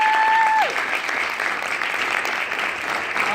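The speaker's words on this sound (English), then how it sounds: "I want to give a huge round of applause" An audience applauds steadily throughout at a forex trading event in Fort Lauderdale, continuous clapping close and fairly loud after a brief tone at the start.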